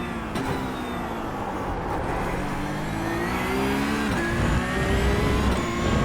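A Porsche GT3 Cup race car in iRacing drones at Spa, the engine holding a loud, steady, buzzing tone that rises and shifts pitch slightly as it accelerates along the track, with no voices.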